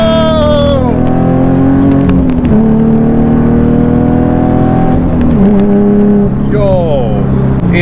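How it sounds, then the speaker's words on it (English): A car accelerating hard from a stop and pulling through second gear, its engine note climbing steadily and loudly for several seconds, then dipping and rising again as the gear changes. Excited voices can be heard alongside. "when you put your foot down to when you feel the car go"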